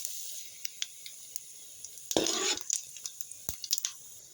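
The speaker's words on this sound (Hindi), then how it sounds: "तो यहाँ पे कढ़ाई में तेल गरम हो चुका है। अब इसमें मैं डाल दूंगी कुछ खड़े मसाले।" Whole spices (a bay leaf, cumin, cinnamon, cloves and black pepper) drop into hot oil in a kadai, bursting into a short, loud sizzle amid scattered clicks and taps of a spoon against the pan.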